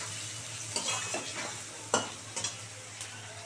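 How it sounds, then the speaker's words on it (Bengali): Onion frying in a pan for a lentil and katla fish curry, a steady close sizzle broken by several scraping stirs, with no talk. "বন্ধুরা পেঁয়াজটা ভালো করে লাল করে ভাজা হয়ে গেল"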